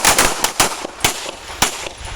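Pistols fire rapidly at an outdoor combat pistol workshop, several shooters on the line at once, a quick uneven burst of loud, close sharp reports, with about nine shots in two seconds and overlapping echoes.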